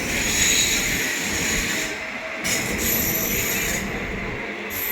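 A Darshan Express passenger train rolls past with a steady roar of wheels on rails and a high metallic hiss. It stays loud and continuous throughout, with slight dips.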